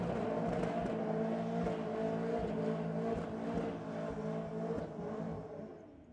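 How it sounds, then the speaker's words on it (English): A Holden Commodore does a burnout at a Sydney drag racing event, its engine holding a loud, sustained roar that eases and fades toward the end. "big, strong burnout from the Commodore"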